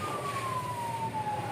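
A fire engine siren wails steadily, its pitch sliding slowly downward, loud and close as a fire truck arrives at a house fire, with constant road and engine noise underneath.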